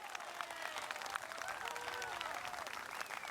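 A golf gallery at a women's professional tournament applauds a birdie putt on the final hole, with soft, distant, sustained clapping from a crowd.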